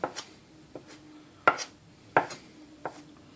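A knife cuts gnocchi dough into pieces, making about six soft, separate chopping taps at an uneven pace. The taps are close and fairly quiet, with no voices.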